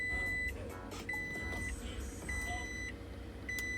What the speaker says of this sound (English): Time to start the car.